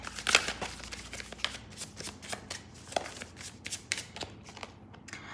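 Tarot cards being shuffled by hand, a close series of crisp riffling and flicking bursts repeating at an irregular pace, with no talking.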